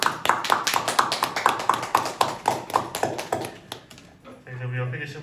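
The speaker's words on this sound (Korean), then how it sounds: "영광의 박수를 드리겠습니다" A church congregation claps in a steady, even rhythm, loud and close, for about four seconds before the claps stop and a sustained musical tone takes over.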